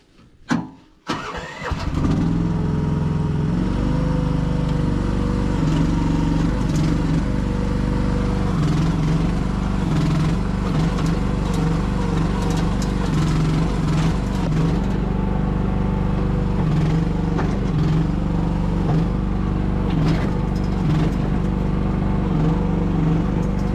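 A small gas engine on an AGT LS15R mini excavator with pilot controls cranks, catches after a couple of seconds and settles into a steady, loud, close idle that runs unbroken.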